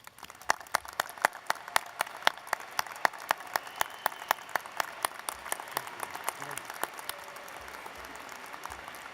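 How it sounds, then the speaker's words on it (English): Audience applause for graduates at a university commencement ceremony, many hands clapping in a brisk, sustained patter that stays fairly even and gradually thins toward the end. "let's give all of them a round of applause to recognize their accomplishments"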